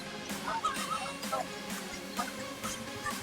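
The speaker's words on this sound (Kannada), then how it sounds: "ಇಲ್ಲಿ ನೋಡಿ, ಬಾತುಕೋಳಿ" Ducks and country chickens for sale at a Sunday street market in Hyderabad give repeated nasal honking calls in short bursts over a faint crowd hum.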